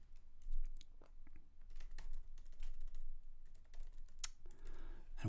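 Rapid, irregular clicking of keys on a computer keyboard, close and fairly quiet over a low steady room hum, with short pauses between bursts of keystrokes.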